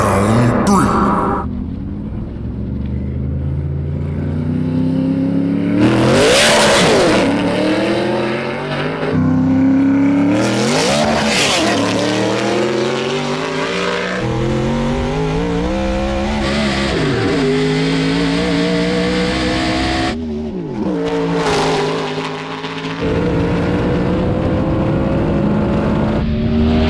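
Hand-built widebody 808hp Pontiac Trans Am and time-attack BMW E36 M3 in a no-prep drag race, engines roaring loud and close through repeated rising gear pulls and shifts, with crowd chatter and voices underneath.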